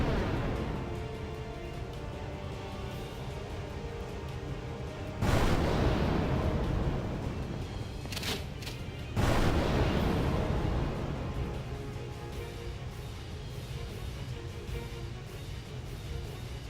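In the role-playing game Final Fantasy X, two sudden explosion bursts hit about four seconds apart, each standing out sharply over a quiet, steady game background.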